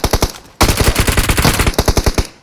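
Rapid automatic gunfire in the mobile battle royale game PUBG Mobile, several dense bursts of loud close shots with a short pause after the first volley, then sustained rattling fire.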